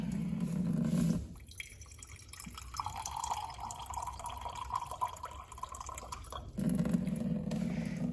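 Water drips and trickles steadily through soil after 100 milliliters are poured into it, a soft continuous patter close by with no voices.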